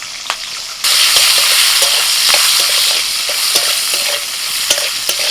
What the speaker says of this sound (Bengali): ওই তেলের মধ্যে দিয়ে দিচ্ছি গোটা জিরে গোটা জিরাটা একটু ভেজে নিয়ে দিয়ে দিচ্ছি পেঁয়াজ আর ক্যাপসিকাম